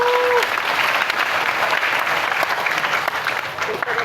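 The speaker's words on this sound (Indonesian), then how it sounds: "Tepuk tangan untuk Bapak dan Ibu guru." Students clap for their teachers at a high school assembly in Tangerang, a dense, steady burst of applause filling the whole stretch without a break.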